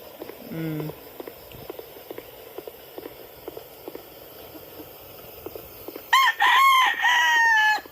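Young roosters, called stags, crowing in a gamefowl yard. One short crow comes early, then a loud drawn-out crow near the end, over faint ticking and scattered background noise.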